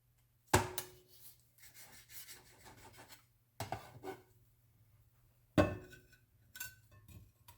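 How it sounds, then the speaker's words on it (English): A knife slices through well-cooked meat on a plate in three separate strokes, each a crisp rasping scrape that starts sharply and fades, close and fairly quiet with a low steady hum beneath. "the knife just goes right through it"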